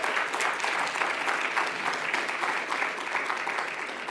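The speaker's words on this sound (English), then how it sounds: "Please give him a round of applause." Steady round of applause for an honoree at a 50th anniversary celebration, a dense sustained crowd of clapping hands lasting several seconds with no speech over it.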